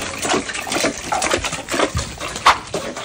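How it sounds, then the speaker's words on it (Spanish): Water poured onto a cooking fire produces a series of splashing, hissing bursts close by, rising and falling in uneven surges, with one sharp splash near the end. "ya está echando el agua al fogón"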